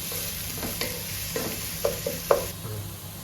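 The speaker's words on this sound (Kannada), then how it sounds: "ಈಗ ಸಾಫ್ಟ್ ಆಗೋ ತನಕ ನಾವು ಫ್ರೈ ಮಾಡಬೇಕು." Onions soften in oil in a pan for methi chicken, giving a quiet steady sizzle with occasional scraping stirs of a spoon.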